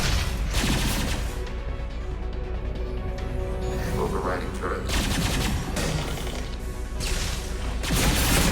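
Automated turret gunfire in Mass Effect 2, a dense, continuous fusillade of rapid shots with crashing impacts lasting throughout, loud and close, mixed with game ambience.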